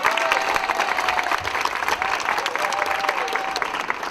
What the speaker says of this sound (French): je pense qu'on peut applaudir nos dessinateurs